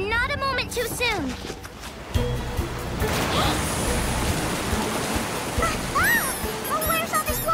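Cartoon water floods in with a continuous rushing, surf-like wash that is loud and steady, while animated voices talk and exclaim over it.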